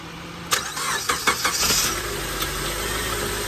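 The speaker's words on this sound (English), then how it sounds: "Now let's start the car and see how many volts we have after we start it." A car engine cranks with a few rapid starter pulses, catches and settles into a steady idle, loud and close, with no one speaking.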